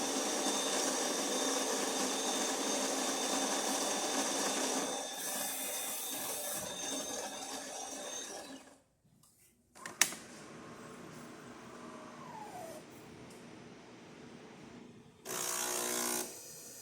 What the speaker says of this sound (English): This sound coming from the water pump.